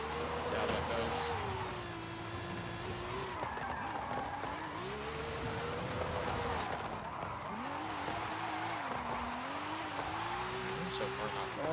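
A 1991 Toyota Chaser GT twin-turbo revs hard during a drift test, the engine note climbing and dropping through gear changes over tire squeal, with someone talking over the noise.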